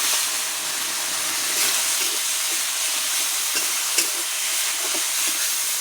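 Ginger, green chili and coriander paste with chopped tomato sizzle steadily in a hot pan, a loud, continuous fry with faint stirring clinks and no voices.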